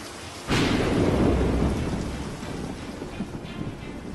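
A sudden crack of thunder breaks into steady heavy monsoon rain in Mumbai, the downpour roaring loudly and then easing to a dense, continuous patter.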